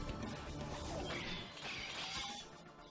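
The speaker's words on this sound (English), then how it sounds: "The sword smashes against the armor, shaves it, letting out lightning sparks." An invisible sword repeatedly smashing against armor in the Fate/Stay Night visual novel, a faint series of metallic crashing clangs with crackling spark-like noise running through.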